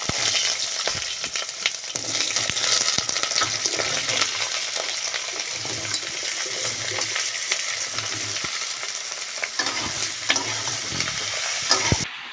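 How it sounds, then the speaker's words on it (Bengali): Eggplant pieces and panch phoron fry in hot mustard oil with a steady, dense sizzle, broken by occasional stirring scrapes and clicks of a spoon against the pan, close and continuous throughout. "তেলটা গরম হয়ে গেছে ওই তেলে আমি একটু পাঁচফোড়ন দিয়ে দেবো আর বেগুনগুলো দিয়ে দেবো"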